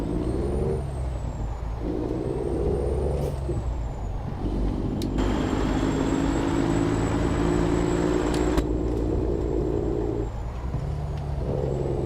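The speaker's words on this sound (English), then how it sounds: "Just get the brakes on in time there." Heavy truck in American Truck Simulator rumbling steadily with loud air brake hisses and a sustained whine through a mountain drive in Mexico's Sierra Madre, continuous engine drone throughout with no talking.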